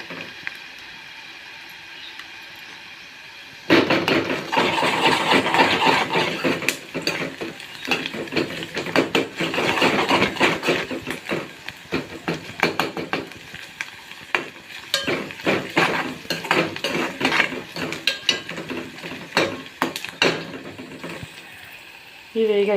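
Fish pieces frying in a pan with ginger added, a loud, steady sizzle with repeated scraping of a utensil stirring against the pan, starting abruptly after a quieter few seconds and running on continuously.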